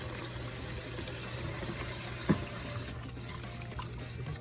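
Rice being rinsed by hand in water in a kitchen, giving a soft steady trickle and slosh with a brief splash midway, fairly faint against a low background hum.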